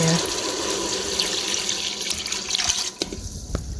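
Beef broth pours steadily into a pot of rice with a splashing, running-water sound that stops near the end, followed by a few light clinks.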